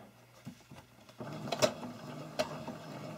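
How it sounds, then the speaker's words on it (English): A sewing machine stitches a cloth face mask in short bursts, with soft mechanical whirring and clicks punctuated by a couple of sharper knocks, quiet and close with no talking. "I am just going to go around and sew it."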